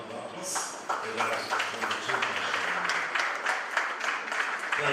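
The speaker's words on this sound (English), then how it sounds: "You do well to give yourselves a round of applause." Conference audience at a polytechnic event applauds, a dense patter of many hands clapping at moderate distance, with voices mixed in.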